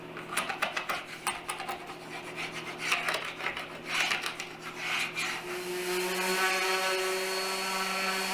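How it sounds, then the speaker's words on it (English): Glue squeeze-out being scraped off the back of a wooden tabletop, a series of close, rasping strokes with an uneven rhythm, followed by a steadier continuous scraping sound. "Now I'm scraping any kind of glue squeeze out on the back side of the tabletop"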